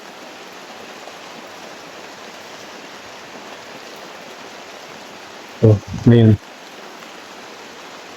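Steady heavy rain falls as a continuous hiss throughout, and one voice speaks briefly near the end over the downpour.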